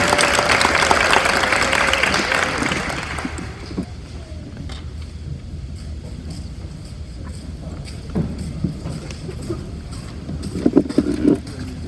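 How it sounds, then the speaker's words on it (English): An audience at an athletic awards and Hall of Fame ceremony gives a burst of applause, steady and fairly loud for about three and a half seconds, then dying away into room murmur and a few faint voices. "Let's give them a round of applause, please"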